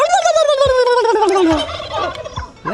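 Turkeys gobble loudly and close by near a roadside shop in Albania, a long descending gobble followed by shorter overlapping calls from the flock.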